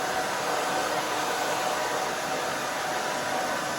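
A hair dryer blowing steadily while a short fine pixie cut is dried, a loud continuous airy whoosh that stays constant throughout without pause.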